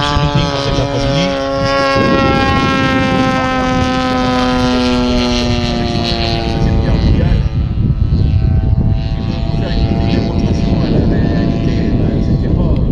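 A Black Horse FW190A model airplane powered by a DLE111 engine flies over an air show meeting, its propeller engine droning steadily with shifting pitch for the whole stretch while an announcer talks over it.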